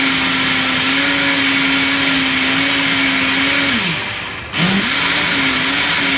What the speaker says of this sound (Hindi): इसको हमने जूसर के अंदर शिफ्ट करके इसका पेस्ट बना देना है।